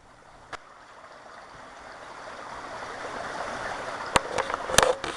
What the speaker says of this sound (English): You hear that water in the background. We got like a little pond. We got a creek back here.